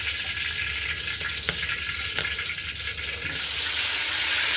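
Brinjal fries lightly in a pan for Bengali sukto, a dense continuous sizzle up close with a few sharp scrapes, the hiss swelling louder in the final second.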